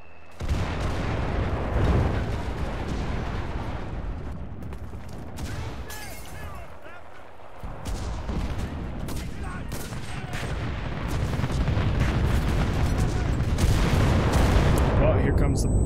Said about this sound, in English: Artillery, fire!